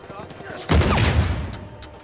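Gunfire in the video game Uncharted 4 breaks out suddenly as a loud, dense burst of blasts, close and booming, then trails off over the rest of the moment.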